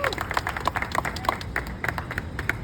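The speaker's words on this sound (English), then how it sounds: "Come on, give her a round of applause." A crowd claps for a speaker at an outdoor racial-justice rally in the rain, with scattered individual hand claps standing out sharply over the general applause and murmuring voices.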